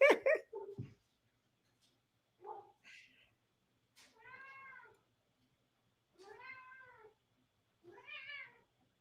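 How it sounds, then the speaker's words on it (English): A house cat meows several times indoors, with a rough cry at the start followed by four or five separate drawn-out meows spaced a second or two apart, clear and close against a quiet background. "I hear your kitty"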